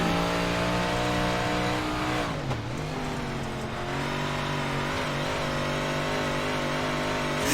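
358 dirt race cars at USA International Speedway: a dense, loud, continuous engine roar from several cars running together, briefly dipping and swelling as a pack passes, then droning on steadily.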